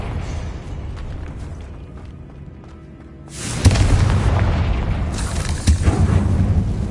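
A Confringo blasting curse explodes in Hogwarts Legacy, a sudden loud boom partway through that rolls into sustained rumbling blast noise after a quieter stretch.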